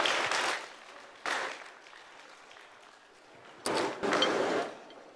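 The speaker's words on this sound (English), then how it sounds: "Give all our recipients a hearty round of applause." Brief bursts of audience applause for award recipients at a finance corporation's 15th anniversary event, three short rounds of clapping separated by quieter lulls, fairly faint.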